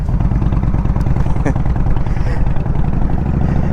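The engine of a 2016 Indian Springfield touring motorcycle rumbles loudly and steadily nearby with a pulsing low throb, while a voice speaks briefly over it.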